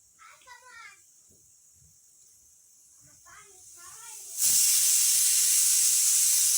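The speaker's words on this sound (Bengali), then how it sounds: "দেখেন প্রেশার কুকার স্টার্ট হয়ে গেছে" A pressure cooker on a kitchen stove starts hissing steam, building into a loud, steady rush that fills the second half after a few quiet breathy bursts, with a voice briefly audible early on.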